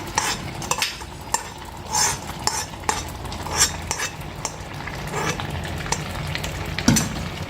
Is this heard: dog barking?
no